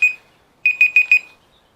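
A phone ringing nearby in a backyard, one short electronic tone followed by a quick burst of four rapid beeps, bright and clear with no talk over it.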